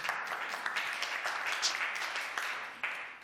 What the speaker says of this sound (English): If we can please give her a round of applause.